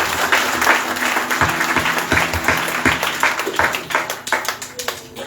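Audience clapping at a Ramayan katha religious gathering, a warm burst of many hands applauding together, dense and near, thinning slightly toward the end.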